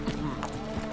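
Hooves of Roach, the horse in the video game The Witcher 3, clop in a brief trot under game background sound and voices, with a couple of distinct footfalls in one second.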